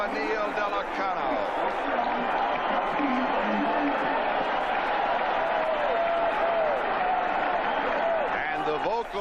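Stadium crowd of UCLA Bruins fans cheering at the 1984 Fiesta Bowl football game against Miami, a dense, steady roar sustained throughout with a commentator talking over it.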